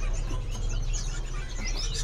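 Songbirds chirp and call in a busy bird shop, overlapping tweets scattered over a steady low hum of the room, fairly close and continuous.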